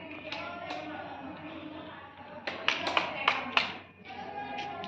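Hand claps from a child in a classroom listening game ring out in a short burst of about six quick claps near the middle, preceded and followed by a few softer taps and low room chatter.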